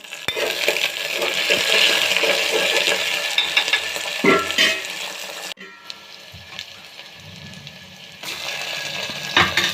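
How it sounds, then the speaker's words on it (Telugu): Lentils are poured into a hot tempering of onion and curry leaves, then fried and stirred, giving a steady sizzle with scraping spoon strokes and a brief clatter, moderately loud and close. "బాగా ఎర్రగా వేగిన తర్వాత దానిలో పప్పు తిరగపోయాలి."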